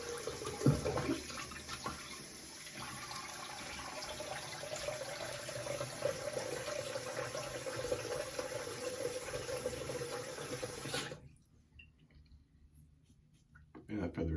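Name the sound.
water running while rinsing face after shaving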